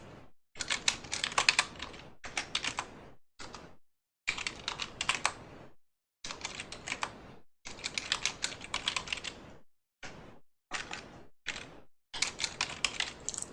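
Fingers typing an unzip command on a computer keyboard in a Linux terminal, producing close, crisp key clicks in quick bursts separated by short pauses.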